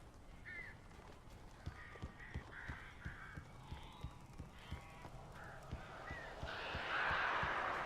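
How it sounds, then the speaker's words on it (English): Crows attack in the Alan Wake video game, giving repeated harsh caws over a run of regular thudding beats, while a rushing noise builds toward the end. "These birds are weird."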